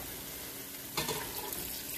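Liquid is poured into a hot pot of chicken soup, a sudden rush of splashing and sizzling that starts midway and keeps going over a constant background hiss.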